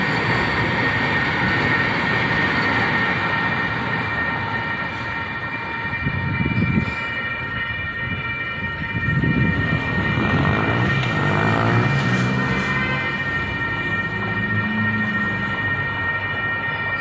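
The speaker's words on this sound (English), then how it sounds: "Here comes the train." A Gold Line light-rail train passes by outdoors, its steady rumble and metallic rail noise swelling and fading over about seventeen seconds with whining tonal hums, heard alone without voices.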